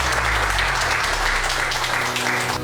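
Applause from an audience at a school council graduation ceremony, steady and dense clapping filling the whole short stretch, loud and close.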